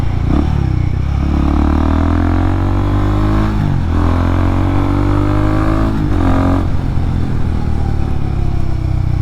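A Royal Enfield Guerilla 450 motorcycle engine roars loudly up close while riding, climbing in pitch through the gears with brief dips at each shift, around three upshifts in a continuous pull.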